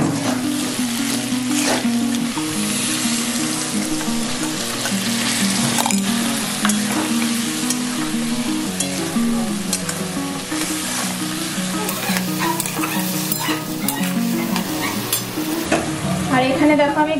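Poppy seed paste with salt is stirred and fried in a pan for a sukto, giving a continuous sizzle with scraping stir strokes throughout. No one speaks.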